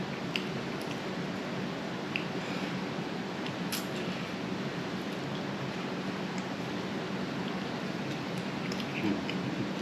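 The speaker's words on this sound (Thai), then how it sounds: "บรรยากาศฝนตก" Steady rain falls in a constant wash of hiss, with occasional louder drips and patters landing close by.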